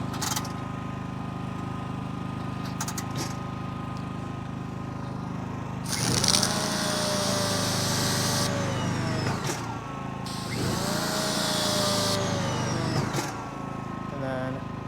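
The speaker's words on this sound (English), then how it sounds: "So number one is for the actual pressure washer, so let's go ahead and test that out." A pressure washer in a low-profile detailing setup runs in two loud bursts of about three seconds each, with a steady machine hum beneath them and nobody speaking.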